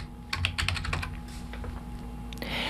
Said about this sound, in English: what if we type in just QR code?